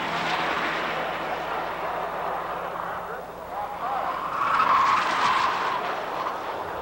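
Showroom Stock A race cars slide past on the circuit with a broad engine roar and a swelling pass, a faint squeal rising near the end, under steady commentary.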